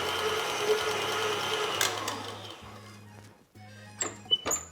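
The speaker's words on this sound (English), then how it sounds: "Scrape the sides of your KitchenAid or whatever other mixer you're using and give it another high-speed" A KitchenAid stand mixer beating ricotta filling, a steady motor whir that shifts pitch and briefly cuts out before restarting, with a few sharp clicks near the end.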